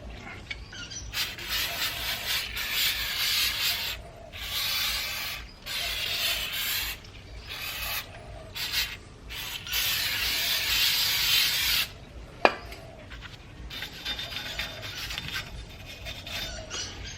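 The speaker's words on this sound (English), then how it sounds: "I'm gonna clean this part, this disc here, with a metal brush." Metal wire brush scrubbing a rusty car brake disc during a rotor and pad change, after a hiss of brake cleaner spray: loud, close, raspy strokes in bursts with short pauses, one sharp metallic knock partway through.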